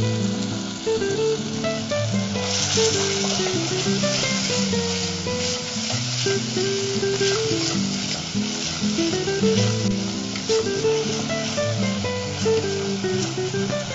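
Tomatoes and onions sauté in oil for a raw mango and dried fish curry, a continuous even sizzle with light stirring, heard under steady background music.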